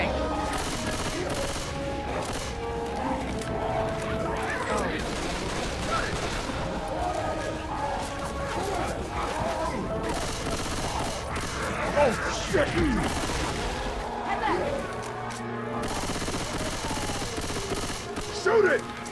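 Gunfire in the video game Left 4 Dead 2 as players shoot at the Tank, a dense stretch of rapid shots mixed with crashes and game noise, with voices talking and shouting throughout.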